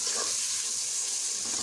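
Water is poured into onion and tomato masala for aloo gosht, giving a steady, close hiss of liquid hitting the hot pan with a faint sizzle.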